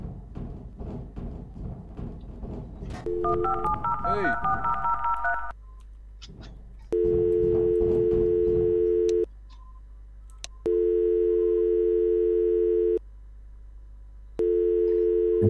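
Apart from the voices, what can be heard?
telephone dialing tones and dial tone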